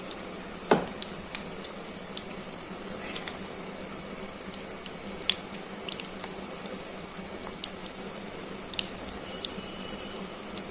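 Pumpkin pakoras frying in hot oil give a steady, close hiss scattered with small pops and crackles that continue evenly throughout, with no voices.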